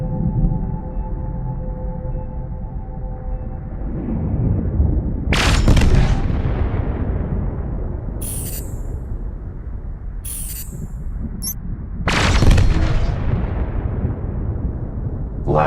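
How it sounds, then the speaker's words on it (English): Laser weapons fire in the SpaceBourne space game, a few loud blasts with long rumbling booms and sharp crackling bursts, separated by several seconds of sustained low roar. "Now let's try laser weapons."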